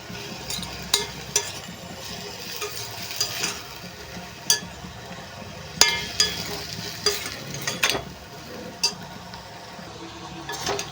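Dried fish frying in a pan, a low constant sizzle broken by a dozen or so crisp scraping and clinking stirs of a spatula against the pan, close and fairly loud.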